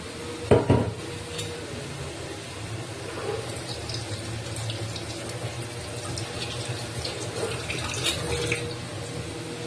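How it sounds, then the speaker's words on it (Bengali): Water swirled and poured while a bowl is rinsed in a kitchen, a sharp clink near the start, then a soft continuous wash of water with light scraping, close and fairly quiet. "বাটিটা আমি ধুয়ে নিলাম"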